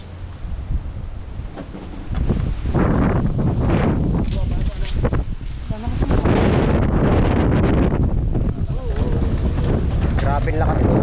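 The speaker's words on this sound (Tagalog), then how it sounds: "Grabe ang lakas po ng hangin." Strong wind at sea buffets a small boat out for night fishing, a constant loud roar with heavy microphone gusts, water and hull noise beneath, and voices talking through it.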